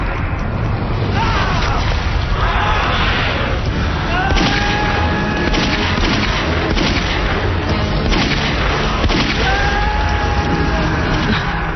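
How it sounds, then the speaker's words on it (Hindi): Gunfire from a P85 automatic pistol in a movie scene, several sharp reports and booms spread over a loud, dense backdrop with people talking and other noise throughout. "गोली चलने की आवाज"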